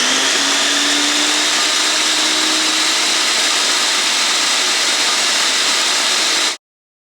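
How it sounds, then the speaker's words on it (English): A food processor whirs steadily as it chops strawberries for ice cream, a loud continuous motor roar with a slight rising whine near the start, running alone for several seconds before cutting off abruptly. "now we're going to be food processing these in the food processor"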